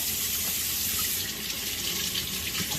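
Cold tap water runs steadily into a kitchen sink to rinse food, a continuous close splashing hiss with no voices.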